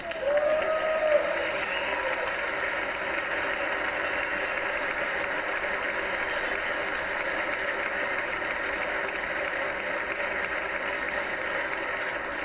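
Applause at the 2026 State of the Union, a large chamber audience clapping steadily and evenly for a long stretch, dense and sustained, with a brief voice near the start.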